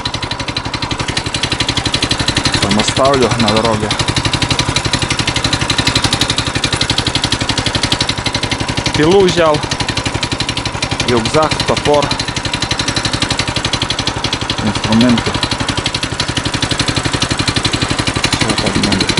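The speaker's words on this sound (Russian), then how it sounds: "сейчас на трицикле поеду, чем пешком тащиться." A tricycle engine runs steadily and loudly throughout in a snowy taiga, a constant mid-pitched drone with a faint knock, while someone talks over it.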